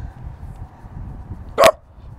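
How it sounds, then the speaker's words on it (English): A guard dog gives a single sharp, fairly close bark over low background rumble. "Guard dog on duty."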